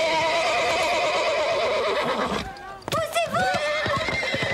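Cobalt the horse lets out a loud, wavering whinny while resisting being loaded into a truck, followed by a sharp break and further neighing and snorting calls with a hoof clatter, people talking over it.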